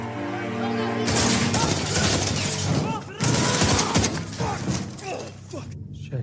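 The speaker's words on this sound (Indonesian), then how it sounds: "2 tentara Taliban berhasil John tembak sampai mati." Gunfire in a war film, a sustained rattle of rapid shots in loud bursts with a short pause partway through, with voices mixed into the din.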